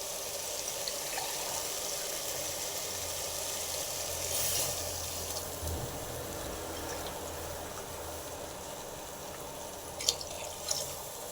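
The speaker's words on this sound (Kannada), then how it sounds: "ತೆಂಗಿನಕಾಯಿ ಹಾಲನ್ನ ಹಾಕ್ಕೊಳ್ತಾ ಇದ್ದೀನಿ." Coconut milk pours steadily into a cooking pot of rice and water for kushka rice, a continuous watery stream lasting several seconds, with a couple of faint clinks near the end.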